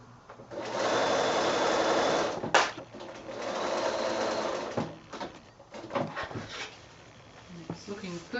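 Sewing machine stitching a quilt seam on a child's bedding set, a close rapid mechanical whir in two long runs with brief pauses and clicks, then slower stops and handling noises.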